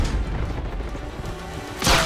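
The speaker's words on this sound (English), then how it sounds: "Grenade out." Grenade explosion in Call of Duty: Black Ops 6 multiplayer, a sudden close blast near the end after a stretch of steady battlefield rumble and scattered distant noise.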